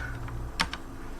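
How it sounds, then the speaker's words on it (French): Brief clatter of a computer keyboard as a shortcut is typed, a few quick soft key presses with one sharper click in the middle, close and quiet. "Si je refais le même raccourci clavier, on voit nos deux fenêtres."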